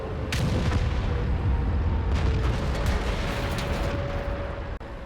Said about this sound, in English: Just get forward again to this point where I get hit by artillery.